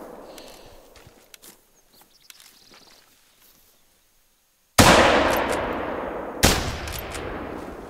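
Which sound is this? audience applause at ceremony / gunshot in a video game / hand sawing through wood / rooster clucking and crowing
gunshot in a video game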